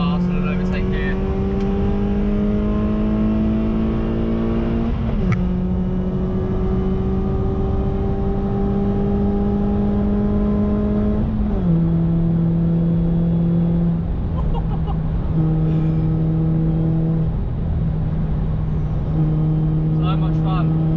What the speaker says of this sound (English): let's go for a bit of a blast and an overtake here